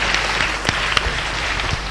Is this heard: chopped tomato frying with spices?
no